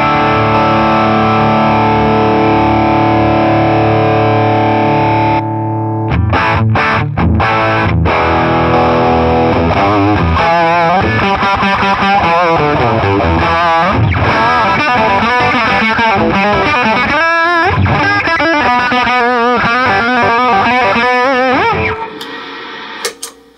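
Electric guitar through a JRockett EQ pedal, set with bass near half past eleven and treble at two o'clock, rings out with a loud sustained chord, then a run of busy picked riffs and stabs, with no voices.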